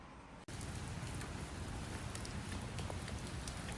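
Steady rain falling outdoors on a walk to the library, a dense continuous hiss with scattered drop patter that starts abruptly after a brief quiet moment and stays fairly faint throughout, with no talking.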